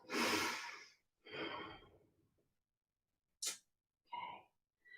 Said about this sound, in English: Sometimes this rapid breathing has a rapid effect of getting oxygen to our brain.